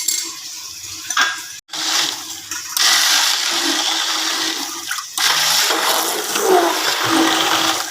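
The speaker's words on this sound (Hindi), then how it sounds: "एक दफ़ा हैंड बीटर इसमें भी चला देंगे।" A hand beater whirs through karri batter thinned with two litres of water, a steady broadband churning and sloshing that runs nearly continuously, stopping briefly a couple of times before resuming at full strength.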